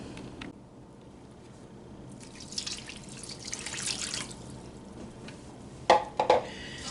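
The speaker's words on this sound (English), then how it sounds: "And I'm going to add my ice water." Ice water pours into a bowl of ground meat with kielbasa seasonings of black pepper and mustard seed, a soft splashing trickle that builds steadily and ends with a few sharper sloshes near the finish.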